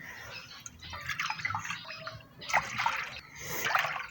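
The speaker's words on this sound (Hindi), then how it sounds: "तो ये इसमें डाल दिया है मैंने दूध" Milk pouring into a pot for homemade Nutella, a soft liquid trickle and splash in uneven bursts, fairly quiet and close, with no talk over it.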